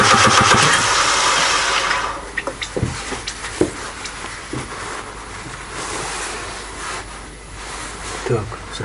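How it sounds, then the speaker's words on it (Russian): An Opel Corsa D with an A14XER engine being cranked by the starter, a loud whirring burst for about two seconds that then stops, followed by quieter clicks and knocks. "И сейчас попробуем покрутить движок"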